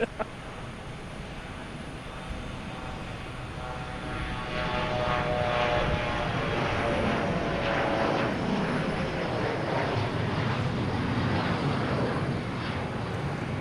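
An airplane takes off at Boston Logan Airport on a Friday evening: a distant engine rumble swells after a few seconds into a loud, sustained roar that holds steady to the end.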